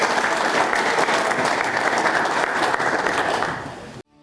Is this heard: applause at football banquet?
yes